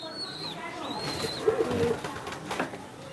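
A big Giribaz pigeon coos in a home loft, a few low soft coos in the middle of the stretch, with faint chirps from other birds and a voice speaking in the background.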